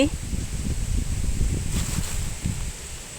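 Dry wind gusts and buffets the microphone outdoors while mushrooms are gathered from logs in a rural Thai setting, a steady low rumble with rustling, and a voice speaks over it.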